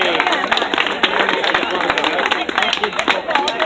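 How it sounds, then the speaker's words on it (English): Crowd at a Covid-19 protest at Queen's Park, Toronto, applauding and cheering with dense, continuous clapping, shouts and crowd babble, loud and close. "Everybody, a big round of applause for Julie."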